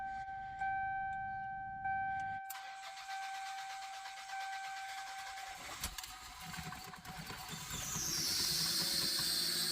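A 1991 Toyota Celica project car, after an oil change and running on very old gas, cranks and fires up, then settles into a running idle with a rising whine near the end; no one speaks.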